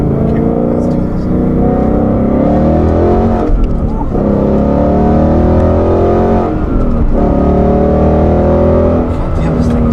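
Ford Performance car with handling pack accelerating hard on a street, loud in-cabin engine roar climbing through the revs with two brief gear-change dips, close and dominant throughout.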